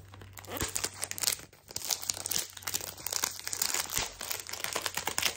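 Louis Vuitton Cactus Garden fragrance packaging is unwrapped close up, with continuous crinkling and tearing of paper or film in quick, uneven bursts and brief pauses.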